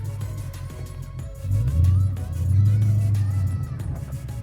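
Car drifting through controlled donuts, the engine holding a loud, strained rising rev that dips and surges twice, with a low droning note and no clear tire screech.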